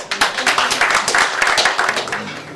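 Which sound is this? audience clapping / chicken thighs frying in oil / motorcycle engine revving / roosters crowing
audience clapping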